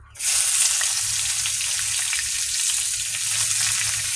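Onions and dried red chilies fry in hot oil in a wok, giving a loud, steady, close sizzle that runs unbroken throughout with no voices.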